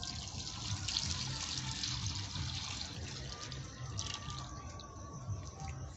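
About three kilograms of milk poured into a cooking pan with filling for kuli pitha, a steady close liquid stream splashing and trickling for several seconds.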